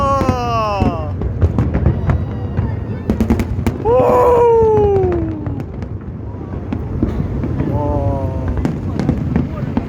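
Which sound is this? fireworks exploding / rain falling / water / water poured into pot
fireworks exploding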